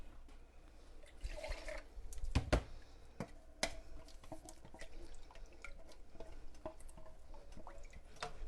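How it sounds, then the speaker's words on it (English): Water is poured into a pot while making homemade chili, giving scattered splashes and drips at close range, with a few sharper knocks of the container against the pot. "And you can just put a little bit of water in there."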